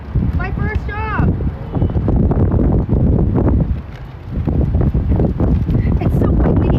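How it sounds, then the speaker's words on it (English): Strong gusts roar and buffet directly against the microphone outdoors, loud and continuous, while a person talks through it. "It's so windy"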